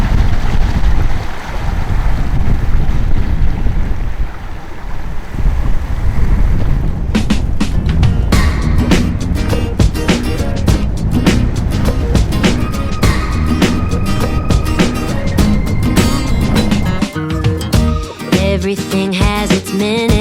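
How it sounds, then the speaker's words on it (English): Sailboat motoring into a bay against a southeast wind in the Marquesas, with steady loud wind buffeting and engine drone over water, then dense rattling and clattering layered on top for the rest of the stretch, no talk. "So now the wind's turned to the southeast and we're motoring directly into the final bay we're heading to"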